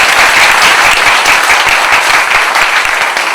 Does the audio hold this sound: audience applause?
yes